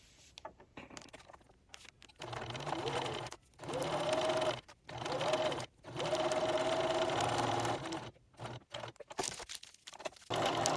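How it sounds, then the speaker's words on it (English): A sewing machine edge stitches a quarter inch around a crinkle tag baby toy in several bursts of rapid whirring, each run separated by brief pauses. "we're going to now edge stitch 1/4 inch around the entire taggy blanket toy"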